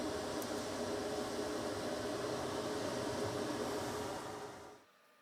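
Air pump and shop vacuum run steadily during a leather cutting job for hat patches, a broad even whir with a faint tonal hum, then cut off abruptly near the end, leaving silence.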